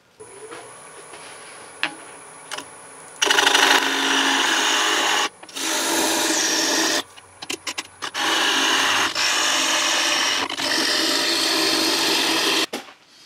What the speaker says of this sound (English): done a little bit of hollowing here, enough to get my recess started